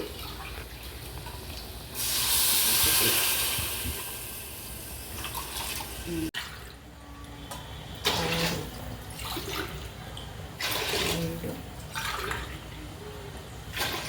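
Water pours onto lentils and rice in a cooking pot in a steady rushing stream, then in shorter splashing bursts, with faint kitchen clatter between pours.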